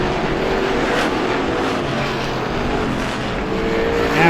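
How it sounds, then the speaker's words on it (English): The number 90 race car with mechanical trouble limps around the track at a 2016 Halloween Howler Strictly Feature event, a rough, steady engine drone that swells at the very end. "Boyle limping that 90 car around right now."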